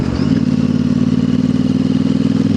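A Royal Enfield Interceptor 650 motorcycle with a new aftermarket exhaust idles close by, a steady, loud, throbbing parallel-twin burble with a slight rise in revs at the start.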